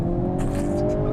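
A 2022 Hyundai Kona N engine roars steadily and loudly at high revs as it accelerates hard from a stop, close by, with faint tire noise on top and no voices.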